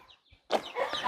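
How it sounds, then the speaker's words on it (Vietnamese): A chicken clucks in a quiet Hmong mountain village, a short burst of clucking after a near-silent pause, close and moderately loud with no one speaking. "Chỉ có tiếng gà"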